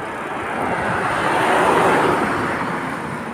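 Toyota Fortuner SUV on a road, a rising and falling engine and tyre roar as it approaches, passes close by around the midpoint and recedes.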